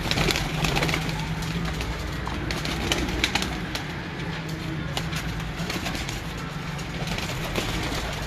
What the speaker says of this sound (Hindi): ये सारे कसूरी जालदार कबूतर आ चुके हैं बाहर